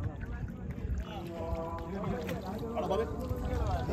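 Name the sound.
boat carrying Ganesh idol leaving on the water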